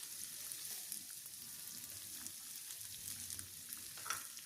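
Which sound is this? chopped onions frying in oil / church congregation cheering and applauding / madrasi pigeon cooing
chopped onions frying in oil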